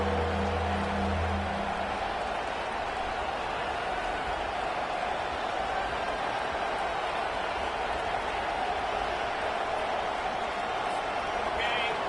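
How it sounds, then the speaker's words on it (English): A home crowd in a college football video game keeps up a steady, loud roar as the defense tries to get off the field on third down, with a commentator talking over it. "Here comes this home crowd as the defense tries to get off the field on third down"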